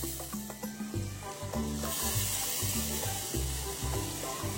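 Cooked dal poured into a sizzling tempering of garlic and curry leaves, a dense hiss and bubbling with a surge of sizzle midway, continuous and close.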